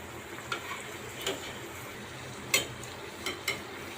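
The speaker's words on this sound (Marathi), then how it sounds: "तेल तापलेलं आहे गरम तेलात वडा सोडलेला आहे" Jackfruit vadas fry quietly in hot oil on a low flame, giving a soft steady sizzle broken by a few faint ticks and clinks, with no talking.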